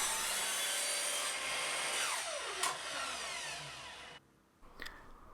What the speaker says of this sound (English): I could make all the cuts on the miter saw